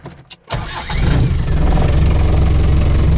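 A 1990 project car's engine cranks briefly, catches and fires up, then settles into a loud, steady close-up run with a little revving.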